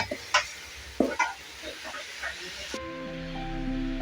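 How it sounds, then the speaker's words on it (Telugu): A few scraping, stirring strokes as rice is mixed in a pan at the start, then quieter clatter and a steady electrical hum underneath. "దీన్ని బాగా సిమ్లో పెట్టుకొని ఒక ఐదు నిమిషాలు బాగా మిక్స్ చేసుకోవాలి"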